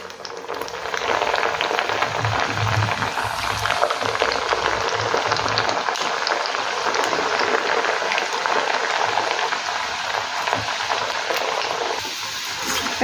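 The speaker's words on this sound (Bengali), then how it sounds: "তেল মিডিয়াম গরম হয়েছে, এখন গ্যাসের ফ্লেম মিডিয়ামে করে নিমকিগুলো ছেড়ে দেবো।" Nimki, crisp Bengali flour snacks, frying in medium-hot oil over a gas flame, giving a steady, dense bubbling sizzle that holds at an even level throughout with no talk.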